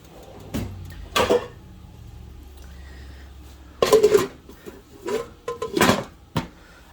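A metal pot lid clatters as it is fetched and set onto a pot of cheddar cheese curd on the stove, giving several sharp close clanks with quieter handling sounds in between.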